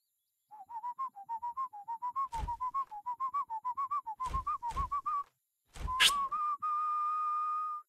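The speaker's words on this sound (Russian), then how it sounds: "Зачем они записали страшный звук свиста?" Eerie melodic whistling in The Emperor's Own video game, a run of short wavering notes in a steady rhythm, broken by a few sharp knocks, then ending on one long sustained tone; fairly clear and alone.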